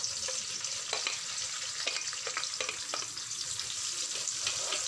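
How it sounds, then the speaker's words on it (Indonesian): Garlic, ginger and shallots stir-fry in hot oil with a dense, steady sizzle and a few scraping stirs, close and continuous, with no voices. "tumis dulu ya sampai wangi"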